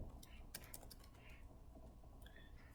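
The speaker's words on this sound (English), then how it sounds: "It's hard to type." Quiet keystrokes on a computer keyboard tap in short irregular bursts, soft and close, with a low voice murmuring in the background.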